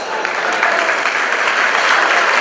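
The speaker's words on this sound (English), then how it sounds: "Give them a round of applause" An audience at a Cape Verdean Museum grand opening in Pawtucket breaks into sustained, close, loud applause that stays dense and even throughout the short stretch.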